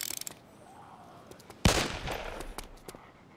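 Gun reloading in the video game DayZ: a sharp metallic clack midway, followed by a brief rattling mechanical tail, heard alone and fairly close.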